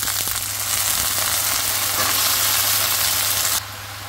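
Vegetables frying in a pan with turmeric give a steady, loud sizzle throughout, which drops to a softer hiss near the end.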